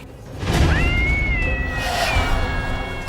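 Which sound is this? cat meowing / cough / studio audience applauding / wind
cat meowing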